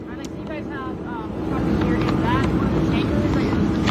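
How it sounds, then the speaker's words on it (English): Fire engine pumping water supply lines into a massive tire recycling facility fire, a loud continuous mechanical rumble and roar that swells midway, with someone talking over it. "That's actually one of our engines that's supplying a water supply into the fire."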